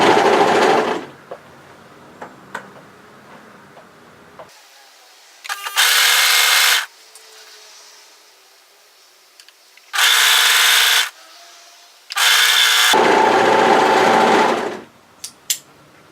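An overlocker stitches around the side seams of a dress, running in several loud, steady bursts of a few seconds each with quiet pauses and faint handling clicks between them.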